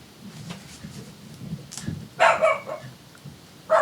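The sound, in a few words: dog barking at the neighbor's dog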